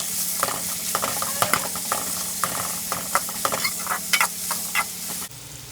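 Sliced onions and curry leaves sauté in a hot pan, a constant sizzle punctuated by a dozen or so sharp spatula scrapes and clacks, close and fairly loud, before the stirring stops.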